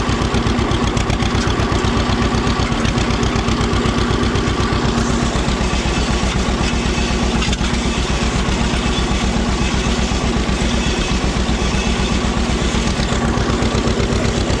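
A John Deere tractor engine runs in a rocky field with a loud, steady, close-up chug, its rapid even firing pulses continuing unbroken throughout.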